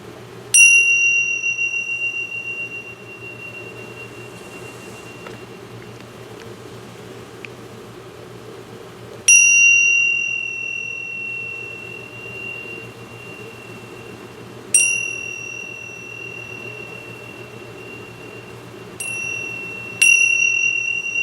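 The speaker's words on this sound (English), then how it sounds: "So we'll start with these tingsha bells. This will be the loudest thing that I bring into the session." Tingsha bells ring in a quiet room, five bright, sharp chimes at uneven intervals, each leaving a long, clear, slowly fading tone over a faint steady hum.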